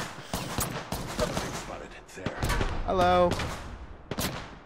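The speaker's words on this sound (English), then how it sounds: "Oh, I'm getting shot." Gunfire in the video game Apex Legends comes in rapid bursts and scattered single shots, with a voice briefly speaking over the action.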